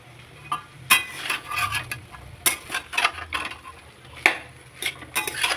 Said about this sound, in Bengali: এবার আমি সিদ্ধ করা ঘুগনিটা দিয়ে দিলাম, মটরটা দিয়ে দিলাম, ঢেলে দিলাম। নাড়াচাড়া করবো কিছুক্ষণের জন্য।